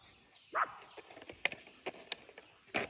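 A dog gives a few short, sharp barks, with one loud bark near the start and another at the end, plus fainter yips in between, in a quiet outdoor setting.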